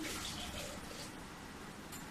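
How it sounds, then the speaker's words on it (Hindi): Water poured into dal seasoned with turmeric and salt inside a pressure cooker, a steady close splashing and trickling wash that runs through the whole moment with no talk. "दाल में थोड़ा सा और पानी में डाल देती हूँ।"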